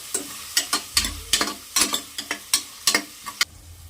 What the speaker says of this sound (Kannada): ಈರುಳ್ಳಿ ಚೆನ್ನಾಗಿ ಫ್ರೈ ಮಾಡ್ಕೊಳ್ಬೇಕು ನೋಡಿ ಈ ರೀತಿಯಾಗಿ ಚೆನ್ನಾಗಿ ಫ್ರೈ ಆಗಲಿ ಸ್ವಲ್ಪ ಹೊತ್ತು